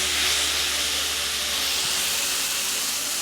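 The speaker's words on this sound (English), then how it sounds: "Stir fry until the noodles turn clear or cooked." Japchae noodles stir-frying in a single pan with soy sauce and dark brown sugar give a loud, steady sizzling hiss that runs unbroken throughout, with no voices.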